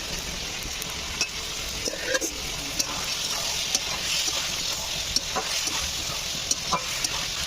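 Fried taro pieces stirred into a cooked onion-tomato spice masala for a light fish curry sizzle steadily in the pan, with a spatula scraping and tapping at intervals, close and continuous.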